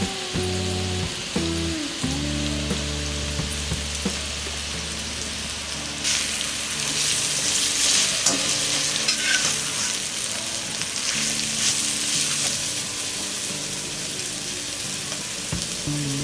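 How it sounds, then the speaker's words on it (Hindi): Pointed gourd (parwal) frying crisp in a pan, a dense steady sizzle and crackle of hot oil that grows louder partway through and runs continuously, close up with no talking. "परवल क्रिस्पी फ्राई हो गया, लास्ट में हम डालेंगे ये रेड चिली पाउडर।"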